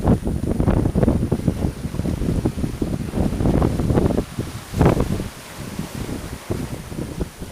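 Gusty wind buffets a sailboat at sea off Corsica, roaring and rumbling against the microphone in uneven surges. Water sloshes beneath it as the boat makes about seven knots in light rain.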